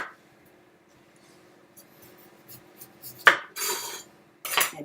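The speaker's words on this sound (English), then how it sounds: "So I'm going to cut off the ends first." A knife cuts the ends off a beet on a board: a few sharp, close chopping knocks and scraping cuts follow a quiet stretch.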